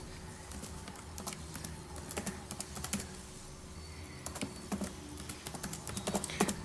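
C code typed on a computer keyboard, a close run of quick, uneven key clicks with brief pauses between bursts, fairly soft and without voices.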